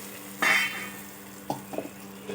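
A spoon stirs pulp into hot oil in a pan over a low flame. A louder scraping swish is followed by a few short, soft stirring clicks, close and otherwise quiet.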